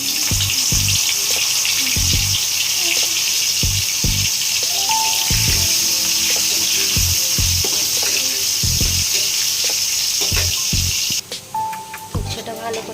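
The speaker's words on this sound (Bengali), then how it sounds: "উচ্ছেটা ভালো করে ভাজা হয়ে গেছে।" Bitter gourd frying in hot oil, a steady close sizzle running throughout, with intermittent stirring knocks and a soft voice speaking at times.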